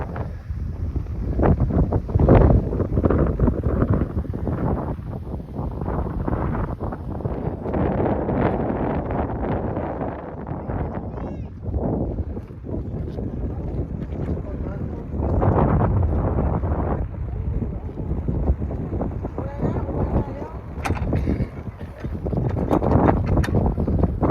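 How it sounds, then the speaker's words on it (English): Strong wind on the Mam Tor hilltop in the Peak District buffets the microphone in continuous heavy gusts and rumbles throughout, loud and close. "It's very windy up on the tour"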